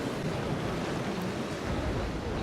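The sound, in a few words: waves and wind at sea in the video game Naval Action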